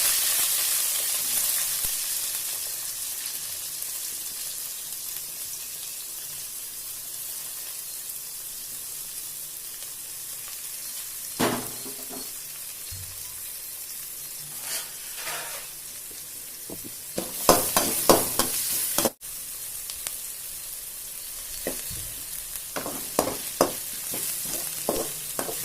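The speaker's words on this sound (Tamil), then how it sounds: "இப்போ வெங்காயம் போட்டு நல்லா வதக்கிக்கணும்." Onions sauté in hot oil with fennel seeds for a brinjal kurma kuzhambu: a steady soft hiss of frying runs throughout, joined later by bursts of louder stirring and scraping clatter, close up with no voices.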